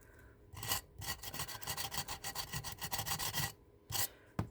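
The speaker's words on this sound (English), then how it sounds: "I'm going to sand that off real quick." Hand sanding cured resin off a poured resin tray, a steady run of rough, raspy back-and-forth strokes in quick bursts with a couple of short pauses, close up and alone.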